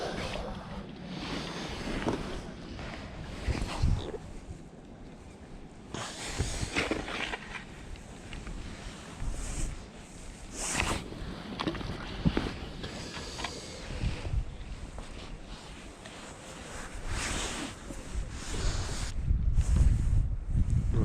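Wind gusts across an open pier on a winter day while fishing, a steady rushing roar with buffeting microphone rumble rising and falling over about twenty seconds.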